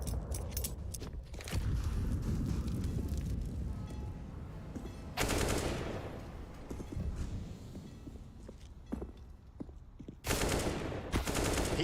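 Counter-Strike match gunfire, with rapid bursts of automatic shots and single cracks in dense, loud sequences, overlaid by in-game ambience and footsteps.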